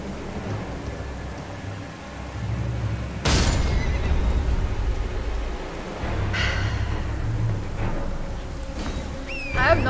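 A horse whinnies sharply a couple of times in the game Elden Ring, over a steady background of pattering rain and soft hoof sounds.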